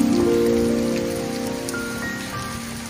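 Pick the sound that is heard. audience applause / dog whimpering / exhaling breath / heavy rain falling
heavy rain falling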